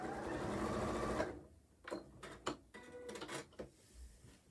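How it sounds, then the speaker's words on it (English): A sewing machine stitches across the binding of a patchwork quilt in one steady, close run of about a second, then stops, followed by a few soft handling clicks and knocks. "So again, just wait till the last minute when the pin comes out, and then stitch across"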